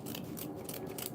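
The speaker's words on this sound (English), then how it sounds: "And now I'm going to cut my fabric." Scissors cut through stiff sinamay fabric in a quick series of close, crisp snips.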